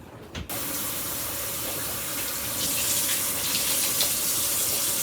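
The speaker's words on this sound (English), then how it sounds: "over here I'm going to wash the bean sprouts and the cilantro." Bean sprouts and cilantro are rinsed under a kitchen tap, with a steady stream of running water that starts abruptly and keeps flowing, growing slightly louder and splashier partway through.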